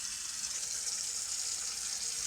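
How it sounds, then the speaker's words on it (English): Tap water pours steadily into a cooking pot for spaghetti, an even, hissing gush with no pauses, close and moderately loud for the whole short stretch. "You're going to want to stop filling the water when it gets to about this point."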